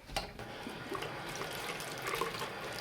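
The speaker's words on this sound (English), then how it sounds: "I hope you can hear me okay over the running water." A bathroom sink tap runs steadily with a close, hissing splash of water, used while washing makeup brushes and a sponge; the flow stays constant throughout.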